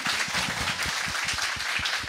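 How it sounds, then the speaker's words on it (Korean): A talk-show studio audience claps in a brief, steady burst of broadband clapping with soft low thumps, no voices over it. "야 지금 박수 한번 주세요"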